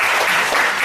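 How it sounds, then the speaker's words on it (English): Dense, steady audience applause from a crowd at a product demonstration, many hands clapping at once in a brief, loud burst with no voices over it. "Can you please give one more applause?"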